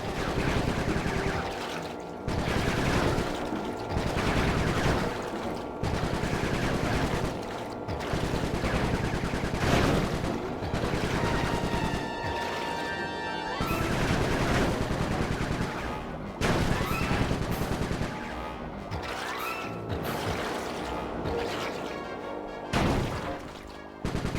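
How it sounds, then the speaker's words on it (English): Gunfire from the video game Sly 3: Honor Among Thieves, with repeated loud bursts of shots and rapid volleys running nearly the whole time over busy game sound. "Nice shooting, Bentley."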